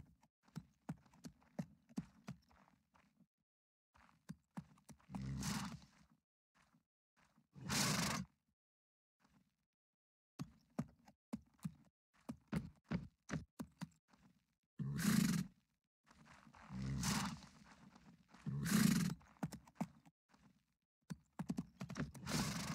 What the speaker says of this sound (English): Grab yourself a horse and ride away with Monfort and his men.